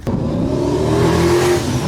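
A car with a 1JZ-GTE engine pulls hard, a loud, close, rising engine roar that builds steadily over two seconds after a sharp opening click.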